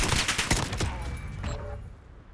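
A rapid burst of AK-style rifle fire in Call of Duty Modern Warfare, a quick string of loud, close shots that stops and leaves a short fading tail, with no talk.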